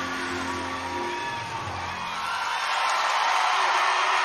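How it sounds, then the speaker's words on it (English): A large arena crowd roars and cheers after a college gymnastics floor routine in a Georgia versus Kentucky meet, with dense, loud whoops and applause that swell louder toward the end. "Crowd's going nuts."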